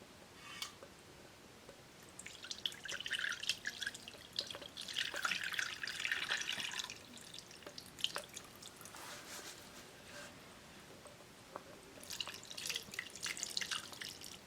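Rendered animal fat oil dripping and trickling through a strainer, faint irregular wet drips and small splashes coming in clusters, quiet and close, with no talk.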